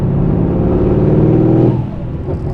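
A Stage 2 tuned Mercedes C63s AMG with OPF pulls in sixth gear from low revs, a loud, close, deep rumbling engine note that holds steady and then eases off near the end.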